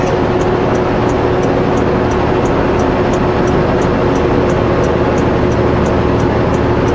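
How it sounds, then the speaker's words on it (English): A car with an automatic transmission held at full throttle while climbing the Paulson mountain road, a loud, steady engine roar with wind and road noise that stays constant and unbroken, no speech. "I'm just flooring it all the way up, letting the automatic do its thing."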